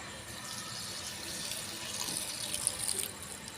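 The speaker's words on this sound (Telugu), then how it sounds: "కొంచెం నీళ్ళు పోసుకోవాలి." Water is poured into a pot for steaming, a steady close splashing flow that swells slightly toward the end.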